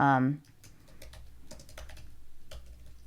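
A brief voice fades out at the start, then computer keyboard typing carries on in a quick, uneven patter of close clicks with a couple of louder key hits, alone against a quiet room.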